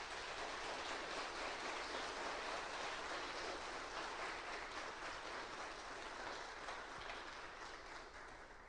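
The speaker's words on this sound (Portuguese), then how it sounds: "Você pode aplaudir por essa verdade?" A church congregation applauds, a faint, dense wash of clapping that holds steady and then tapers off at the end.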